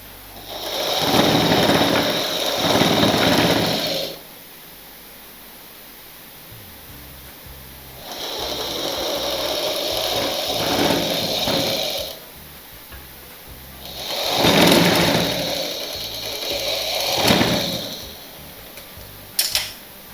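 A sewing machine stitches a petticoat chemise in three loud runs of rapid whirring, the stretches between them quieter and busy with the fabric being handled, ending in a couple of sharp clicks.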